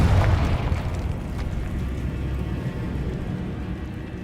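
A Confringo blasting curse explodes in the Hogwarts Legacy video game: a strong low burst right at the start, then a long, gradually fading rumble.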